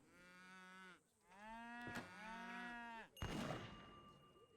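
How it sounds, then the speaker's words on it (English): A cow in the Age of Empires III video game gives two drawn-out, tonal moos in quick succession, followed by a short noisy burst of game sound effects. "Another cow."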